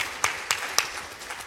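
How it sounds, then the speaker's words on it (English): A handful of scattered hand claps from a small audience at a technology summit in Grand Bahama, three sharp separate slaps in quick succession over a quiet room. "Yeah, you can clap for me."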